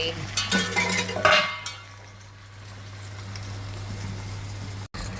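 A lid clanks down onto a pot of simmering fish gravy, a short metallic rattle of clangs near the start, followed by a steady low hum and quiet cooking noise.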